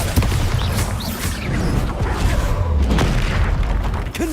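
Explosive Bombarda spell impacts during a Hogwarts Legacy PC battle, deep booms and rapid crackling bursts piling into a loud, continuous barrage up close.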